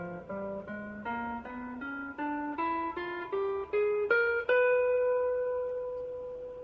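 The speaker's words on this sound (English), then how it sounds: "to play a B symmetric diminished scale," Guitar playing a B symmetric diminished scale ascending two octaves, about a dozen clean plucked notes in steady rhythm rising in pitch, the last note left ringing.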